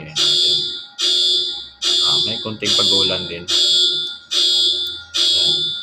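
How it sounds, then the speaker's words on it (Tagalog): An electronic earthquake alarm blares in seven regular, loud pulses about once per second, with a voice talking beneath it midway through. "tumunog yung natin, yung alarm ng earthquake"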